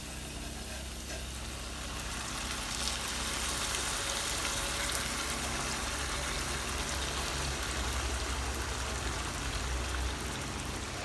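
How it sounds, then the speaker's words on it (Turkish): Rain falling steadily outside, an even, continuous hiss with no voices over it. "Hala yağmur yağıyor."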